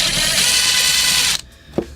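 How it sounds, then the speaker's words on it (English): A power drill whirs loudly, backing screws out of a QSC K12 speaker cabinet, then cuts off abruptly, followed by a single sharp click or clunk in the quieter pause. "So we're just going to remove all the screws that are there. I know my drill bit is a little too long"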